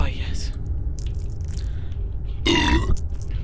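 A loud, rough burp erupts near the end, right after a gulp of Lucozade Orange drink, standing out over a steady low hum with a few faint murmurs earlier.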